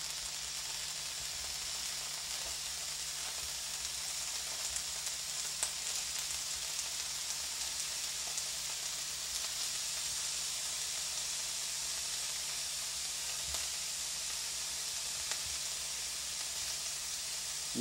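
Gosari and shiitake mushrooms fry in hot oil, giving a soft, steady sizzle and hiss throughout with a few faint pops and clicks.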